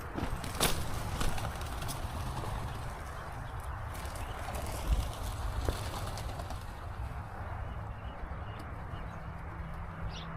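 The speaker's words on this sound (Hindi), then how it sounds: "तो ये रहा कुछ कबूतर का फार्म है" Many pigeons coo in low, soft murmurs all around at a pigeon farm, with wings flapping and occasional clicks and knocks nearby.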